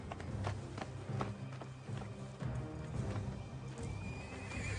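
A black horse whinnies amid clip-clopping hooves and shuffling movement, with a loud, busy, dramatic sound bed and no clear speech.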